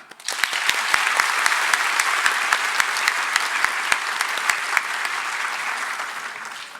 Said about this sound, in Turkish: hepimiz buraya sizleri alkışlamaya geldik.